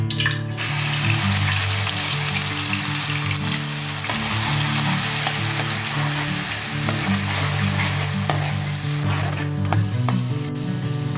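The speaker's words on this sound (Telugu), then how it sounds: "ఇలా పచ్చివాసన పోయేలాగా వేయించుకోవాలి." Onion paste fries in oil with cinnamon, cloves and cardamom in a pan for black goat curry, a steady close sizzle and crackle running throughout with occasional stirring scrapes and no talking.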